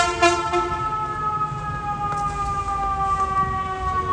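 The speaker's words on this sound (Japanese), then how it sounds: "ずっとサイレン鳴ってるよね。" Emergency sirens wail steadily outdoors in a US city, layered tones holding on loud and continuous with no talk over them.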